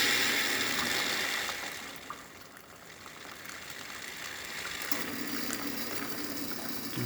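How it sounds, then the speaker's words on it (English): Profitec 700 espresso machine filling its reservoir from a plumbed water line, a steady rushing, gushing water flow with a faint pump hum that continues for several seconds, no talking. "we're gonna run the water so we'll fill with"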